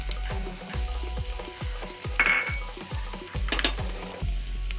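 Shallots, green chilies and garlic fry in a hot pan, a steady close sizzle with rhythmic scraping stirs repeating about every half second.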